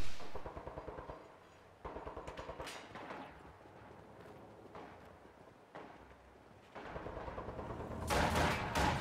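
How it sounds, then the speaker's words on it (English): A video game battle with troops firing near a contested fuel point: bursts of rapid machine-gun fire and scattered shots recur through the clip, fairly faint and distant, with a louder close burst at the end. "starts firing on some forces that are trying to take control"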